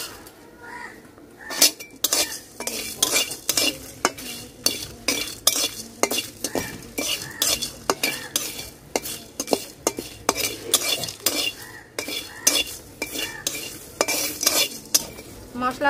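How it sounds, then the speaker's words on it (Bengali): Bay leaf and dry spices are dry-roasted and stirred in a pan for chicken dak bungalow. A spoon scrapes and clinks against the pan in quick, rhythmic strokes, close and clear, with no talking. "মশলাটা শুকনা খোলায় ভাজা নিচ্ছি,"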